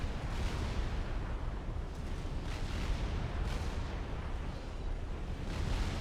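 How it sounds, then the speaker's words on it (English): A Novax satellite fires on a Fat Boy unit in Supreme Commander, a dense rumble of continuous artillery-like blasts and explosions rolling on without a break. "Novax is actually firing onto the Fat Boy"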